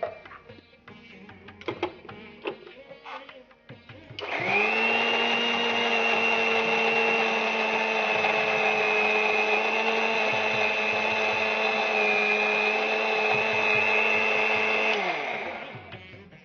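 Mixer grinder whirring steadily as it grinds boiled gongura leaves with green chillies into a smooth paste, starting abruptly after a few kitchen clatters and running loud and continuous for about eleven seconds before winding down.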